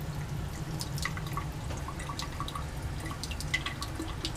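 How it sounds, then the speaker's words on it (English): Solvent drips steadily from a reflux condenser during a Grignard reaction, about one drop per second, each drip a faint, light tick over a quiet background hum. "And we're still dripping at 1 drop per second."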